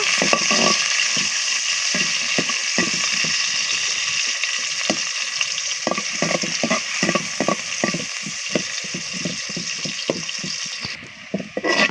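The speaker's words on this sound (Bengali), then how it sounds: "পেঁয়াজটা দিয়ে দিচ্ছি পেঁয়াজটা লাল করে নেব" Onions for a duck curry sizzle steadily in hot oil in a pan, a continuous bright frying hiss with frequent clicking stirs and scrapes of a spatula throughout.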